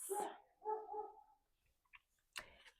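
A dog gives a couple of barks close by at the start, then a few fainter yips and a sharp final bark after a near-silent pause.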